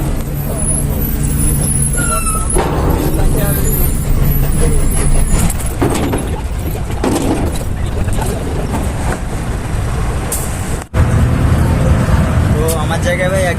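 A bus engine rumbles steadily and loudly from close by, with hissing air-brake bursts and passing traffic mixed in, and people talk over the din.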